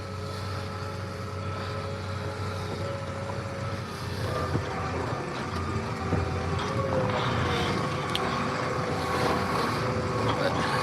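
Diesel engine of a large tractor steadily running a hay processor on a cattle feeding day, a continuous low droning rumble with mechanical clatter, close and fairly loud throughout.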